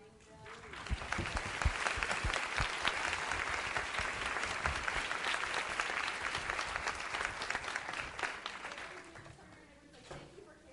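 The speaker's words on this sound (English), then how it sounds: "If you don't mind applauding them." Sustained applause from an audience at a school district education summit, building quickly and holding steady for several seconds before thinning out, with a few scattered claps near the end.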